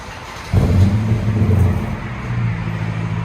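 Chrysler 300 with a 5.7L HEMI V8 and a new exhaust, starting up with a sudden deep rumble that settles into a steady low idle, close and fairly loud.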